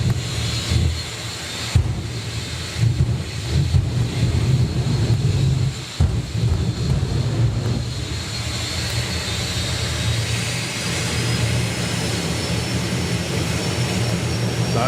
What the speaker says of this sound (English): Winds up that turbine.